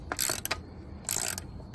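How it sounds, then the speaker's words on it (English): Ratcheting wrench tightening a bolt on a 1982 AquaSport boat, two bursts of rapid clicking close by, separated by a brief pause, with no voices. "Last bolt going on."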